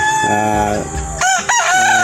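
A backyard rooster crows loudly and close by, one drawn-out harsh cry that breaks and rises near the end.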